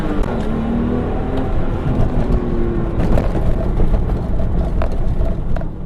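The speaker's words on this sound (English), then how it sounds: "Do another little launch here at this stoplight." A Porsche 911 with a manual gearbox launches hard from a stoplight, its engine note rising in a loud, steady roar heard from inside the car, with road and wind noise throughout.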